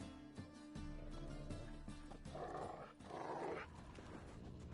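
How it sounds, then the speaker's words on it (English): Dogs in the video game The Witcher 3 growl and give rough barking bursts at mid distance over a steady low game ambience, with the louder outbursts near the middle of the stretch. "Just beware of the dogs."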